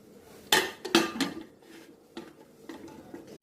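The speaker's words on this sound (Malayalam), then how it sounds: "കുക്കർ അടയ്ക്കാൻ പോവാണ്." The metal lid of a pressure cooker being fitted and closed in a home kitchen, a few sharp clanks and clatters close up, followed by lighter taps and scrapes.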